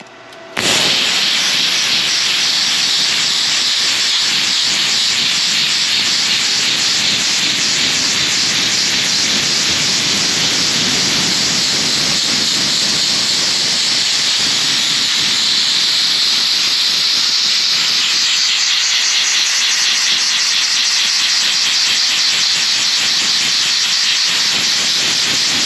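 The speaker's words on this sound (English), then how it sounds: "You guys loved the rust removal last time on the rotor, so let's hit this rotor again." A brake rotor undergoes rust removal with a budget Arccaptain tool, producing a loud, steady, continuous hiss that runs unbroken for the whole stretch.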